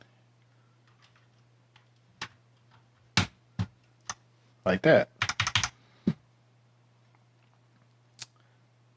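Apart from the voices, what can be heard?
pushing keycaps onto a computer keyboard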